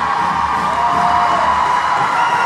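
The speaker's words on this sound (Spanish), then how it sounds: "El aplauso que baja de la hinchada de Asturiano para sus jugadoras." Fans of Centro Asturiano applaud and cheer their women's football team after promotion, a dense, steady roar of crowd noise with whoops and shouting that stays loud throughout.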